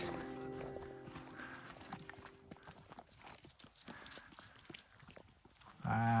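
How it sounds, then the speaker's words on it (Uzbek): Horses grazing near a small lake in the Kyrgyz countryside give faint, scattered hoof clops and shuffling steps outdoors, with soft rustling and a brief louder thump near the end. "otlarni topib oldik"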